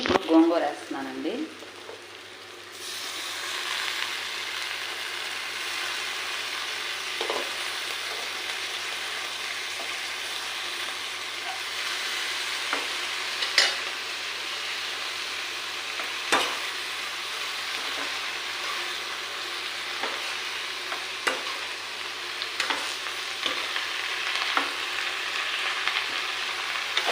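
Gongura leaves sizzle and fry in a pan with ginger-garlic paste, a steady close crackling hiss lasting almost half a minute, punctuated by occasional scrapes and clinks of stirring.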